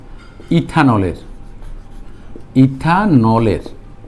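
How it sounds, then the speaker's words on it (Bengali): A marker writes an answer on a board in two loud, squeaky strokes, each lasting about a second, with a pause between them. "4 নাম্বার অ্যান্সার লিখছি"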